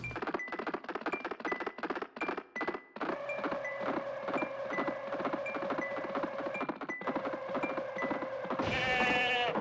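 Sheep in the driving game Touge Max 2 bleat over and over in a rapid, rhythmic chatter of short cries, with a steady engine-like drone and a brief chiming jingle at the end.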